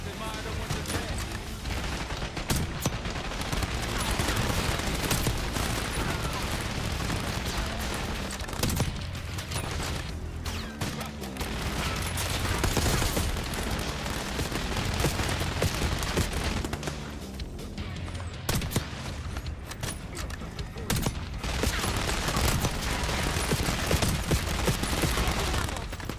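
Sustained, dense minigun fire from enemy operatives in Black Ops 6 roars almost without pause through a chaotic firefight, with a voice talking over the din.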